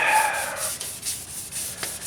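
A steady wet rubbing, abrasive paper scrubbing back and forth over a smooth painted surface of a 1977 Camaro Z28 in short strokes, close by.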